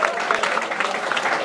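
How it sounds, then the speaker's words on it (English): An audience at a comedy show claps steadily, a dense, continuous burst of applause filling the short moment with no gaps. "clap it up for being here."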